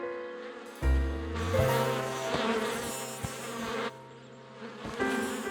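Cartoon bees swarm around a hive from a kids' animated show, a dense, loud insect buzz with shifting pitch that rises sharply after a second and carries on with a few soft thumps beneath it.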